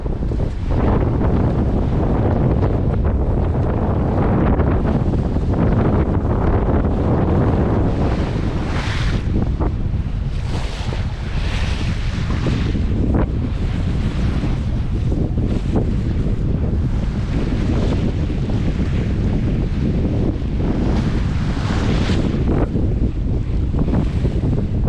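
Wind and waves heard aboard a sailboat on the St. Lawrence River, with steady loud rushing wind buffeting the microphone and water washing continuously against the hull throughout.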